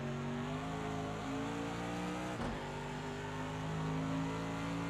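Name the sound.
Mercedes AMG GT3 engine at Bathurst, Project Cars 2 video game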